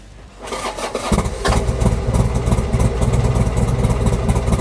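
A motorcycle with a brand new battery cranks briefly, then its engine catches and settles into a steady, loud, close idle, running alone with no talk over it.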